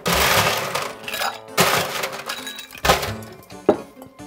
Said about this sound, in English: Pop in some ice.